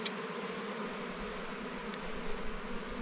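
Honey bees buzz around hives at an apiary in a village in Qakh, Azerbaijan, a faint, steady hum of many insects close by with no talking.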